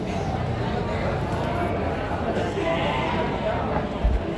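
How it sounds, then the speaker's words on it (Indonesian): Sheep bleat amid the steady din of a crowded livestock market in Tanjungsari, Sumedang, with repeated calls rising over a dense background of voices and bustle. "Ini gagah sekali ya dombanya teman-teman."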